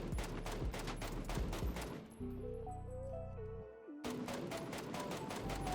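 Single-fire gunshots from a compensator-equipped weapon in PUBG, sharp repeated cracks at a steady rhythm, broken by a short stretch of a droning game tone before the shots resume.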